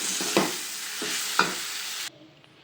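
Coriander leaves fry in a pan, giving a soft sizzle with two or three brief stirring scrapes before the sound cuts off abruptly near the end.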